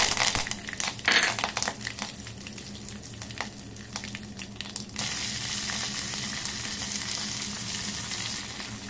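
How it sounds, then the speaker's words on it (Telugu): Tempering spices and dried red chillies fry in oil for buttermilk rasam, with sharp crackles and spatter. After a few seconds a louder, steadier sizzle takes over, close and continuous. "తరువాత తాలింపు దినుసులు ఎండుమిరపకాయలు వేసుకోవాలి."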